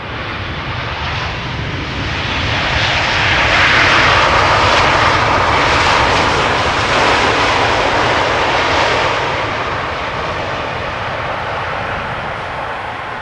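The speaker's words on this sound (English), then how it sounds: "This is KLM flight 622 arriving from Atlanta, Georgia, 7879 Dreamliner." A KLM Boeing 787-9 Dreamliner lands at Amsterdam Schiphol Airport, its jet engines producing a loud, broad roar that swells as it passes nearby and then slowly fades, heard alone.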